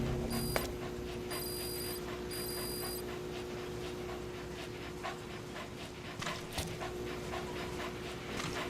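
Dog panting in the video game Metal Gear Solid V: The Phantom Pain, a steady, soft breathy rhythm running the whole time beneath a constant game ambience with faint electronic beeps near the start.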